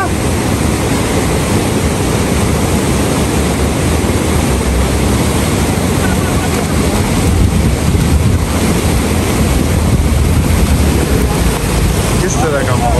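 Loud, continuous rushing of a deep, fast-flowing mountain stream on the road to Shimshal Valley, heavy water roar and wind buffeting the microphone throughout, with voices faintly underneath.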